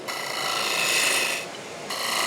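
A woodturning tool rides the bevel and cuts into spinning wood on a lathe, a steady close rasping scrape that drops briefly and then resumes, with no talking.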